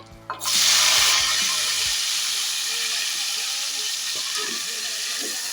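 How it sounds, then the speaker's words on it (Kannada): Chopped tomatoes drop into hot oil in a pan for a quick tomato pickle, setting off a sudden loud sizzling hiss that settles into a steady frying sizzle. "ಟೊಮೆಟೊ ಸ್ಮೂತ್ ಆಗೋ ಹಾಗೆ ಫ್ರೈ ಆಗಬೇಕು."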